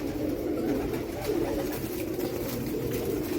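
Teddy pigeons coo in soft, continuous low murmurs close by, layered over a steady background hum with no voices.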